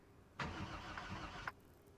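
A car engine in the Project Zomboid video game cranks for about a second without catching because it has no fuel: a rough, churning starter noise that cuts off abruptly, with no talking.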